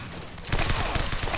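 A shotgun fires in Blockade 3D, a blocky online shooter game, as a loud burst of gunfire that kicks in abruptly after a short quiet moment and keeps rattling to the end.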